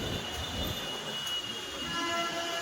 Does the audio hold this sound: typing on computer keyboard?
no